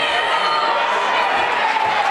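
A crowd at a senior men's football grand final in Ngukurr raises a steady, broad roar of voices and cheering, continuous and even throughout.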